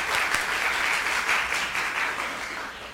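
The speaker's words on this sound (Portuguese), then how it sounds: "Mais uma salva de palmas para a professora." Warm applause for a professor at an arts information seminar, an audience clapping steadily throughout and slowly thinning toward the end.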